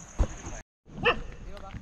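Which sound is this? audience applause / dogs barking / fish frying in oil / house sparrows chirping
dogs barking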